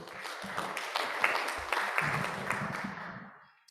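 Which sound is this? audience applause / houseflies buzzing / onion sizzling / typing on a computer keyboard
audience applause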